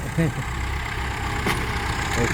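A Kubota M9808 tractor plows in a narrow forest plot among rubber trees, its engine a steady, moderately close rumble, with a few short voice-like tones over it.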